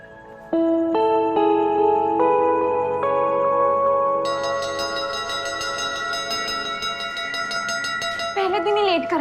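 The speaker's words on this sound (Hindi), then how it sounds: "10 मिनट से घंटी कौन बजा रहा था मंदिर में?" A temple bell rings repeatedly with bright, sustained metallic tones that build and overlap into a dense shimmering wash, loud and close, ending in a brief swooping tone.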